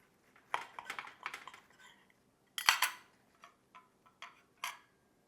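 A knife and fork work into a venison burger on a plate, making sparse, close clinks and scrapes in short separate bursts against quiet.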